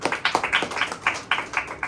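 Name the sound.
congregation clapping hands in church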